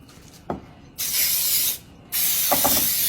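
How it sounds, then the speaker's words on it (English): Two bursts of homemade oven coating spray hiss onto a casserole dish, each about a second long, with soft handling knocks between them, close to the microphone. "Just spray a little bit of that on there."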